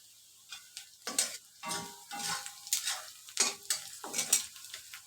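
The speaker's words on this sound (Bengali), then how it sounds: "পেঁয়াজ কাঁচামরিচটা আমি হালকা একটু ভাজবো" Onion and green chilies fry lightly in a pan, crackling softly while a spatula scrapes and stirs in irregular strokes, close and fairly quiet, with no voices.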